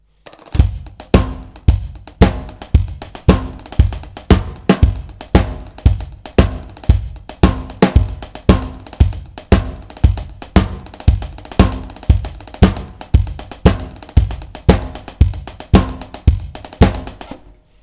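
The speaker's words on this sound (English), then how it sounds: "the 5-stroke roll on the hi-hats" A drum kit plays a steady, upbeat disco groove with a punchy kick on every beat and quick five-stroke rolls on the hi-hat, loud and close.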